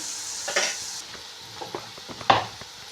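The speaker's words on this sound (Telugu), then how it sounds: "తెల్లవాయలు పచ్చ పచ్చిగా దంచుకొని ఇలా వేసుకోవాలి తర్వాతలోకి మళ్ళీ దీన్ని ఒకసారి కలుపుకోవాలి కొంచెం వేగనిద్దాం దీన్ని" Raw crushed garlic being stirred in a hot pan for a tomato roast, with a soft steady sizzle and a few scraping stir knocks close by, one louder clatter near the end.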